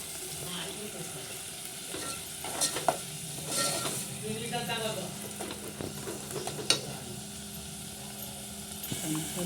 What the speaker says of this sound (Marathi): त्याच्यामध्ये टॅमॅटो टाकायचा आणि बरं भाजून घ्यायचं याला पण